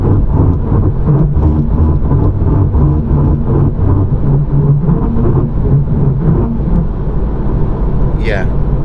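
Steady loud road and tire roar inside a 2020 Toyota Supra at speed on a rough road, a continuous low drone with faint bumps throughout.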